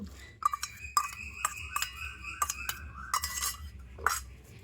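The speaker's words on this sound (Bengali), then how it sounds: "এবার এগুলোকে একটু আমি থেঁতো করে নেব। আর এগুলোকে আমি এখন শিলের মধ্যে নিয়ে নেব।" Herbal ingredients being crushed on a stone grinding slab (shil), heard as a series of sharp knocks and clinks with an uneven rhythm and bright ringing edges, set close against a quiet room.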